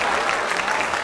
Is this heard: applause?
yes